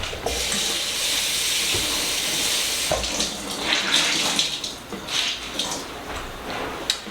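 Water runs from a tap onto pizza dough, a steady splashing hiss with small shifts in flow that stays close and fairly loud throughout.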